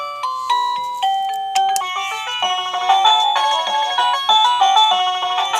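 Chime melody from a Liztek wireless doorbell, a bright electronic tune in the style of Mortal Kombat video game music, played as a rapid sequence of synthesized notes with steady rhythmic pulses, loud and close with no talking.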